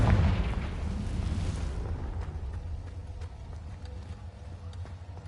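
Confringo fire spell blasting in the video game Hogwarts Legacy, a heavy booming explosion that starts loud and rumbling, then fades into a long low roar with scattered crackles and thumps.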